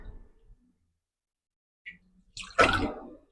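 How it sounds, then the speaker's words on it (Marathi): Water poured into a pressure cooker, three cups, for wheat kheer: a short, close splashing pour of about a second near the end, after near silence and a faint tap. "कुकरमध्ये आपण तीन कप पाणी घेणार आहोत"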